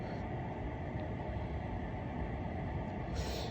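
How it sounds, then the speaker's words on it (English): A steady low rumble and rolling roar, like a train passing, continuous and dense throughout with no voices. "And the trains start going off."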